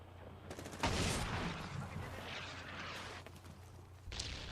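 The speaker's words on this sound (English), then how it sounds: "So there's some missile strikes coming in there" Missile strikes landing in the military shooter Medal of Honor: Warfighter, a loud blast rolling into a sustained roar of rumbling explosions and debris, then another impact near the end, set against constant battlefield noise.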